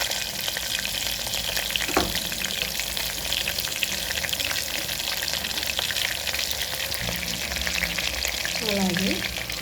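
Green chilies, four marathi moggu, two cloves and four cashews fry in hot oil for a toor dal khichdi, giving a steady, close, dense sizzle with a couple of faint stirring scrapes and no voices.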